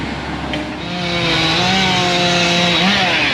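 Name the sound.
chainsaw cutting down trees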